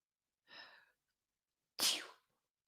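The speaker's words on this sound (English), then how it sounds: "I have to sneeze, I think, hold on." A short breathy intake followed by a single sharp, explosive sneeze, close and alone in otherwise quiet surroundings.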